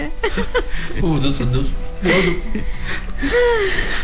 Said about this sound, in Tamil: இப்ப ஏன் சின்ன குழந்தை மாதிரி அழுதுகிட்டு இருக்கீங்க?